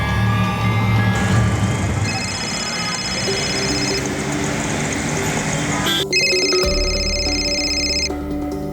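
An electronic telephone ringtone sounds in a household scene from a police crime drama, playing repeated tonal bursts over steady background noise, loudest toward the end.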